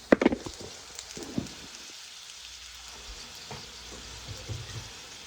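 Food frying in a skillet before eggs are added, a soft steady sizzle with a few sharp clacks of a spoon stirring early on, then a quieter, even crackle.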